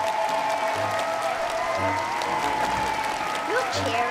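Live-action kids' show stage contest where the performers return to hear the winner announced: a dense, steady wash of audience clapping and cheering fills the whole stretch, loud and continuous, with voices calling out through it.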